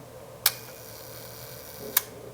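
Two sharp camera shutter clicks set at a very slow shutter speed, the first opening and the second closing about a second and a half later, close and crisp over a quiet background hiss.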